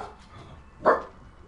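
A pet dog lets out a single sharp bark indoors at night, close and fairly loud, standing out over a low background hum.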